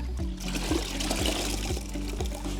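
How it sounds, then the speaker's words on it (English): Clean water is poured over tile paving to wash it off, giving a close, continuous splashing trickle with a regular pulsing rhythm and no voices. "Now we've got some clean water."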